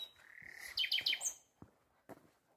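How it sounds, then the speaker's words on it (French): Birds give a quick burst of high, bright chirps and tweets outdoors by a forgotten old farmhouse, followed by a couple of faint short calls in an otherwise quiet setting. "Pas mal d'oiseaux."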